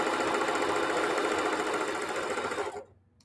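A sewing machine stitches jelly roll fabric placemats in a steady, fast mechanical whir that runs loud and continuous for nearly three seconds, then stops abruptly into quiet.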